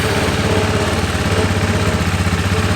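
A KTM Duke 390 motorcycle idles with its factory muffler, a steady, even low putter that stays constant and unchanging, with no voices.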